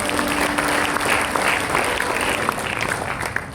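Congregation applauding during a Christmas sermon, dense steady clapping from a crowd, close and loud throughout.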